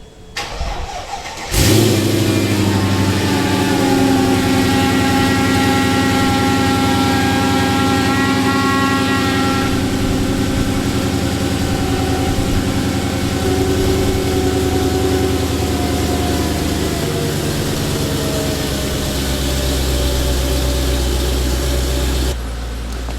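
A Mercedes E55's gasoline engine cranks and catches after a brief silence in -15 degree cold, then settles into a loud, steady idle with a low rumble that runs on for about twenty seconds.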